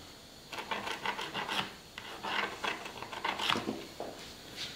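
Pencil or marker rubbing firmly across dark polyurethane-coated wood to mark a cut line on a stair tread, a series of close, quiet raspy strokes in irregular bursts, with no voices.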